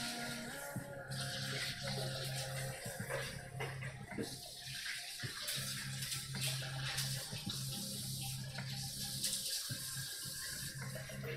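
Tap water runs steadily into a sink or container to fetch fresh rinse water for painting brushes, a continuous quiet splashing flow heard alone without voices.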